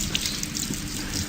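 A urine stream splashes steadily in playback, a continuous hissing water pour with soft gurgling, fairly close and even throughout.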